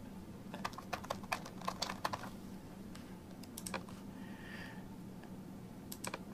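Someone types search terms on a computer keyboard in a quiet room. The keys click in quick irregular bursts, close and fairly soft, with short pauses between runs.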